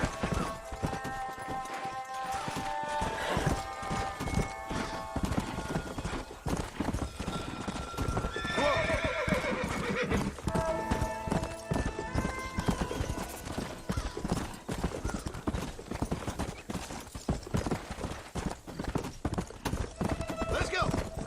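A horse in the Red Dead Redemption video game gallops with steady rapid clip-clop hoofbeats and lets out a couple of whinnies midway, loud and continuous, with a voice talking over it.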